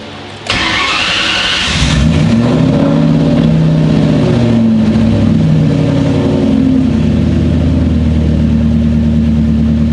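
A Ford Mustang with a freshly built engine cranks briefly, then catches and settles into a loud, lumpy idle with a few revs rising and falling, close by and with no voices.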